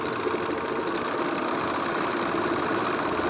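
A Riccar 1240 sewing machine stitching at high speed, a loud, continuous rapid mechanical whir with no pauses.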